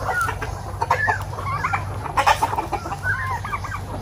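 Several chickens cluck and chatter close by in short, overlapping calls over a low background hum.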